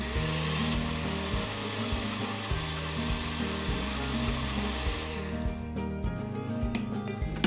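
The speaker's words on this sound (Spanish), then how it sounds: "vamos a activar nuestra licuadora" A loud, steady whirring blender motor grinds continuously while making homemade Nutella, its pitch shifting slightly partway through, with no voices.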